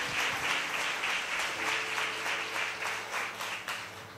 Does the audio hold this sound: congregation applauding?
yes